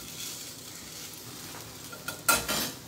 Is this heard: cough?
no